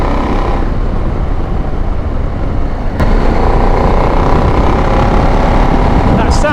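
A KTM 890 Adventure R adventure motorcycle's engine runs steadily and loud throughout, a dense continuous drone that steps up slightly in level partway through, with no speech over it.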